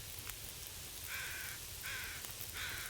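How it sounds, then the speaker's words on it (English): Crows in The Long Dark caw three times in evenly spaced, harsh calls at moderate distance over a steady rain-like hiss of wind and weather. "The bear's crows sound completely different than than regular crows do."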